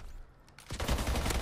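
Video game gunfire breaks out in a quick dense burst of several rapid shots after a brief quiet moment.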